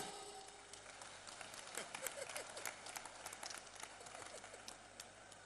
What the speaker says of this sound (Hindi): एक बार जोरदार तालियां